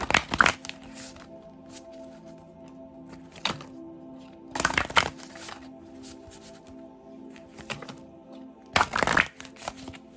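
A deck of tarot cards is shuffled in three loud riffling bursts near the start, middle and end, with quieter card handling and a steady low hum between them.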